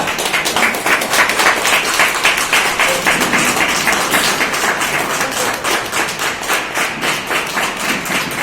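An indoor audience at a city shop training programme in Asansol applauds steadily as a speaker walks onto the stage, a dense, loud, even wash of clapping that holds throughout.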